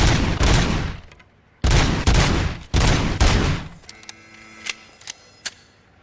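A service weapon fires at a police range in the RoboCop: Rogue City video game. Three loud bursts of rapid shots end with ringing mechanical clicks and a couple of sharp ticks, with no talking.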